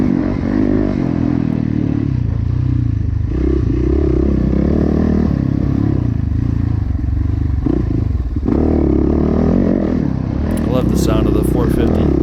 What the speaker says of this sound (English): Sound of the 450, the grunt, that low end torque.